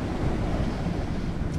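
Big ocean waves and gale-force wind buffet a sailboat in mid-ocean, making a loud, steady roar of rushing water and wind gusting across the microphone.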